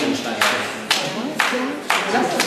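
Gentle hand slaps on bare skin during Paida therapy land in a steady series of four soft claps about half a second apart, close and distinct, with a voice faintly present in the background.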